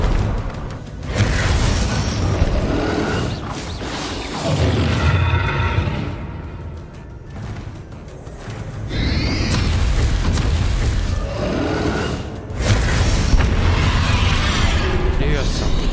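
Repeated Bombarda explosion spells in Hogwarts Legacy, heavy booms and bursts with whooshing spell casts in a busy fight, a voice speaking spell names throughout.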